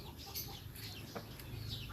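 A young rooster gives a few soft, low clucks over a faint background hum, fairly quiet and at a moderate distance, with no talking.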